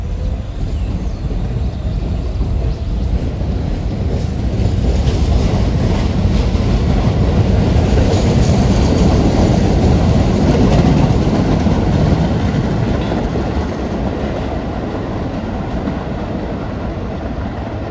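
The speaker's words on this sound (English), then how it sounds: "And we got a Tottenville bound train" A Tottenville-bound train rumbles past steadily for the whole stretch, a loud continuous roar with faint rhythmic rattling, slightly fading toward the end.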